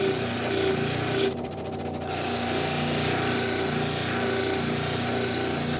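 A rock saw slicing stone into slabs, running as a loud, steady droning whine with a continuous grinding rasp that holds unbroken throughout, with no voices.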